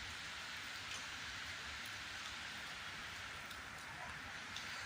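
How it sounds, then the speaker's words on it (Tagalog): Heavy, steady rain pours down without a break, a dense wash of hiss with occasional louder drops hitting a surface close by. "Sobrang lakas ng ulan."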